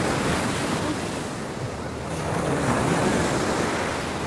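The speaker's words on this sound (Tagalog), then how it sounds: "malakas ang alon" Steady roar of strong ocean surf at dusk with wind buffeting the microphone, a continuous loud rush of breaking waves close by.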